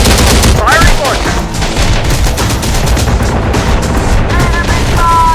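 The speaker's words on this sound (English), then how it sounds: "Firing launcher!" In the Terminator Dark Fate Defiance war game, a rocket launcher fires amid a loud, dense battle: heavy booms stand out over continuous rattling gunfire, with shouted voices in the mix.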